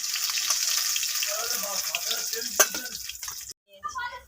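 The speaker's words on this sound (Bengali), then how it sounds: "মাছগুলোকে উল্টে পাল্টে নিলাম দেখো মাছগুলো সুন্দরভাবে ভাজা হয়ে গেছে" Fish sizzle and crackle steadily in hot oil in a pan as the pieces are turned, a close, continuous frying hiss that cuts off briefly near the end.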